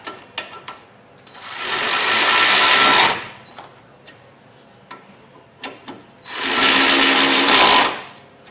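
A ratchet runs down the brake caliper bolts on an '07 Chevy Malibu during a front pad and rotor job, making two long, loud, steady whirring bursts separated by scattered light clicks and taps, with no voices.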